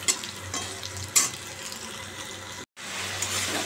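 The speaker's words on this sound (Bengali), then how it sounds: "আলুটা লাল করে ভেজে নিই" Potatoes frying in oil with green chillies and cumin, a steady close sizzle with occasional stirring scrapes and a brief cut, no talking.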